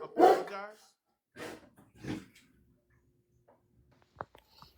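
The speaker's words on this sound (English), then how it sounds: "I couldn't hear you over the dog barking" A dog barks loudly nearby in a short burst at the start, then a few softer yaps follow during a home video call, with a person's voice speaking between the barks.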